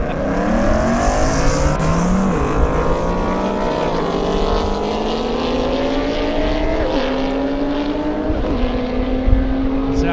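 A Ford Mustang and a Lamborghini race side by side down an airstrip, engines roaring loud and close and climbing steadily in pitch through several upshifts, with brief dips at each gear change.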